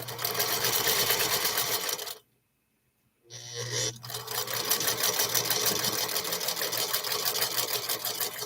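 A Singer Featherweight sewing machine stitches at a fast, steady rhythmic whir close by, cuts out to silence for about a second, then starts up again and keeps running.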